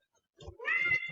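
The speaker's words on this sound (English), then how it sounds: "that was my cat Chippy." A pet cat gives a short, clear, close meow that rises and then holds, loud against a quiet room.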